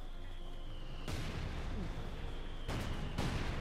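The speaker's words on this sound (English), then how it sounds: "Almost got the maximum there with an excellent mortar hit." Mortar shells exploding in Company of Heroes 2, several sharp bursts over low battlefield rumble, fairly close and punchy, spaced irregularly across a few seconds.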